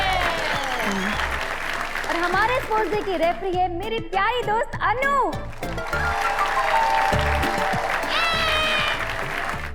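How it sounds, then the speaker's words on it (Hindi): A crowd claps steadily for a women's lemon and spoon race at a sports day, with someone speaking loudly over the continuous applause. "जोरदार तालियां हो जाए"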